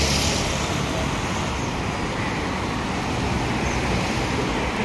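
Road traffic on a managed one-way street in a small market area of Little India, Singapore: a steady, broad wash of passing vehicles and engine noise, continuous and moderately loud, with no clear voices.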